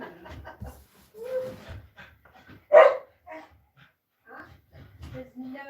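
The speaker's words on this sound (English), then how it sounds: "There's no need to bark." A dog barks and whimpers in a room, giving a few short yips and whines among quieter gaps, while people talk nearby.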